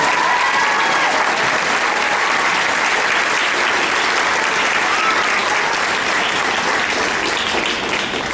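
Audience at a school graduation applauds the teachers, a dense, steady wash of clapping that stays loud and even from start to finish with no talk over it.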